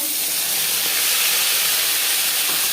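Whole cumin seeds fry in hot refined oil with a steady, fairly loud hiss and sizzle, holding constant the whole time.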